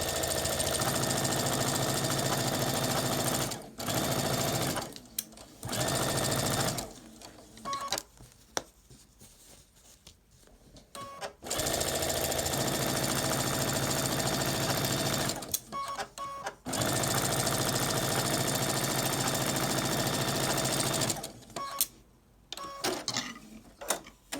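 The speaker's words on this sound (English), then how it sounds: "I will sew 1/4 of an inch. And I remove my pins as I sew." A sewing machine stitching quilt block pieces at a quarter-inch seam, running in long steady bursts of rapid mechanical chatter separated by quiet pauses and small clicks as pins are removed.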